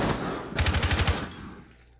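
Rapid automatic gunfire in a Rainbow Six Siege tournament match, a tight burst of about seven shots close and loud, then fading into quiet room ambience.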